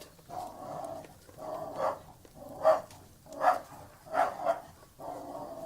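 A dog barks repeatedly at a steady pace, about six or seven sharp barks roughly every second, fairly close and moderately loud.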